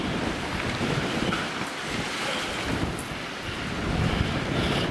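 Sea waves at high tide at Watchet, Somerset, surge and splash over the sea defences in a steady roaring wash. Heavy wind buffets the microphone throughout, and nobody speaks.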